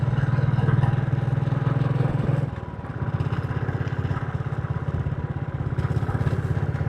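Motorcycle riding along Gap Road near Munnar, Kerala, its engine a steady close drone that dips briefly in strength around midway before settling into an even, throbbing hum.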